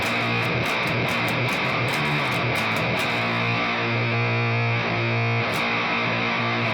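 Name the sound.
Bass VI guitar with SRC6 bridge pickup, no EQ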